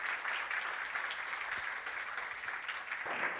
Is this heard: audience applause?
yes